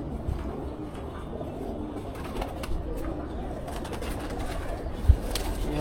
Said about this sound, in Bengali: এটা আমাদের বাসায় একটা বিডার নর কবুতর, একটা বেজি কবুতর যেটা বলে।